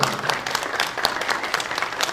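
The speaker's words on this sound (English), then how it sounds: "Athletes, can we give a round of applause to your coaches, please?" Audience applause for wrestling coaches at an athletes' awards ceremony: steady, dense clapping from a sizable crowd, even and continuous for the whole stretch with no voices over it.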